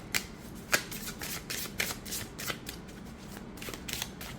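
Oracle cards from a Soul Trees deck riffled and shuffled by hand, a close dry flutter of card edges with several sharp snaps and bursts over a quiet background.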